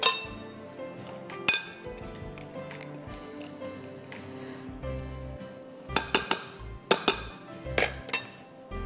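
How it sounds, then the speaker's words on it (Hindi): A spatula mixes ingredients in a bowl, giving scattered sharp clinks and knocks against the sides. The strokes come in irregular clusters, sparse at first and busier toward the end. "लेकिन एक स्पैचुला यूज़ करेंगे पहले, ताकि मैं आराम से चीज़ों को मिक्स कर लूं"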